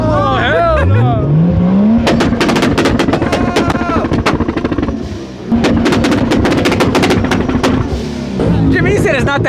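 A straight-piped Corvette Z06 is revved hard and repeatedly nearby: its pitch rises, then rapid-fire crackling pops and bangs burst out across the whole stretch, broken by a brief dip, while people talk and shout over it.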